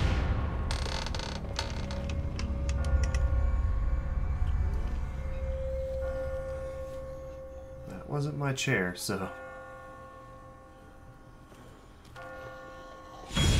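Bells ring in The Walking Dead video game, several metallic strikes with resonant tones in a quick cluster midway through, after a short spoken line and creaking ambience.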